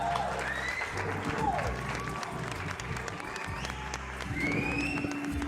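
A live painting session audience claps a round of applause for a musician named Mark, moderate scattered clapping mixed with talking voices and some music.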